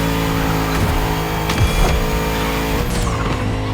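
In The Crew Motorfest video game, a car's engine drones loudly and steadily while tires squeal and skid in short bursts, with revs rising and falling as it races.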